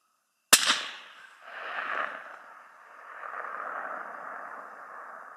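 A single sharp rifle shot fired at a long-range target cracks loudly and close, followed by a long rolling echo that fades and swells over several seconds in open terrain.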